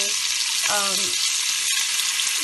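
Shrimp brown in a hot skillet with a steady broadband sizzle that runs throughout, broken by a brief scrape or stir and a short tonal clink near the middle.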